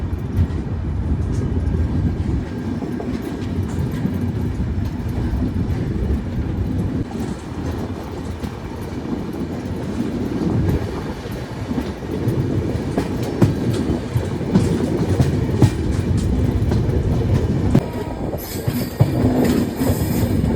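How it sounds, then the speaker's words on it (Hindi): The Sanghmitra Express pulls out of Sevagram Junction and rolls along the rails with a continuous deep rumble, rhythmic clickety-clack and occasional wheel squeal, heard from inside the moving coach. "चलिए, हमारा डिपार्चर हो गया एक 15 मिनट के लॉन्ग हॉल्ट के बाद सेवाग्राम जंक्शन से भी।"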